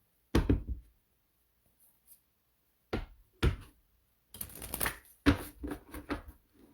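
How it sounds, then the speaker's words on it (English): A deck of tarot cards is shuffled by hand in several separate riffling bursts, close and crisp, with quiet pauses between them and a longer, busier shuffle at the end. "So one more shuffle."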